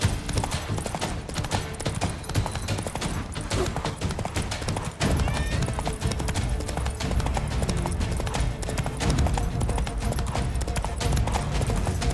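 Roach, the horse in The Witcher 3, trots with steady, rhythmic clip-clopping hooves heard up close and loud throughout, the pace briefly breaking midway before resuming amid game ambience.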